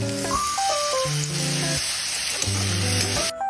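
Leftover torta sautés in a pan, a steady crackling sizzle that stays loud throughout while tonal music plays over it.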